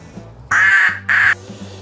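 A person imitates a duck, giving two loud, nasal quacks in quick succession close to the microphone, with faint background hum between them.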